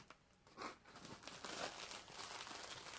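A small piece of plastic is crinkled by hand close up, giving irregular crackling bursts that rise and fall over a few seconds.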